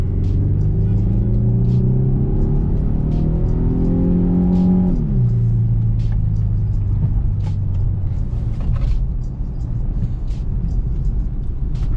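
An Infiniti M35 sedan speeds down an empty road, its engine a loud, steady rumble that climbs in pitch, shifts down once, then rises again as the car keeps accelerating.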